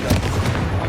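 The Confringo spell in Hogwarts Legacy going off as a short, loud burst of blast-like bangs and cracks, with no voices over it.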